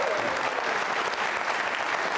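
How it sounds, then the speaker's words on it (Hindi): Audience at a Jain Social Group quiz show applauding steadily, a dense, even wash of many hands clapping throughout with no break. "तालियां जोरों से बजाइए अपने लिए आप"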